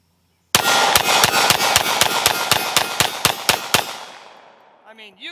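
Rapid string of about fifteen sharp, loud Smith & Wesson M&P 5.7 pistol gunshots fired at a steady quick pace outdoors, each crack ringing with a long echoing tail, followed by brief faint voices.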